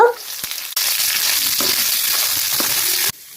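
Onions fry in oil for a Mangalore-style crab curry: a loud, dense sizzle starts abruptly, holds steady for a few seconds with small crackles, then cuts off sharply.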